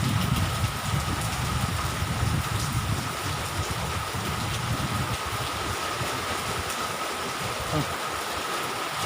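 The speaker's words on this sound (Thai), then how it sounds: "ฝนสาดจ้ะ" Steady rain splashing and pattering on a surface, a dense continuous hiss with a low engine-like rumble underneath.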